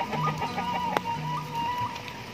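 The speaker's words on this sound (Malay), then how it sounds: "Tuh, banyak ayam hutan." Red junglefowl call in a rainy evening village setting, a few short clucking and crowing notes rising over steady rain noise, moderately near, with one sharp click partway through.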